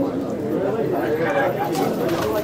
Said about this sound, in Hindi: ये इनके पक्के से अच्छे अच्छे कबूतर हैं